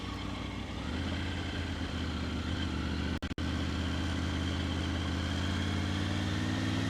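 Triumph Tiger 900 engine running at low steady revs during a slow turnaround on a ride near Mt Shasta, a constant close drone with a short dropout midway, no speech.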